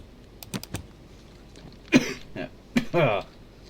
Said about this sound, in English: it's only recent that I just started coughing like this again